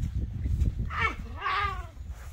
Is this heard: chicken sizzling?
no